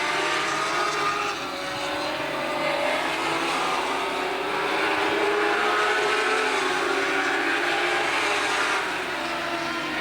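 Dwarf race cars racing around Angola Motorsport Speedway in 2012, a steady loud roar of several engines passing at speed, continuous and close without pause.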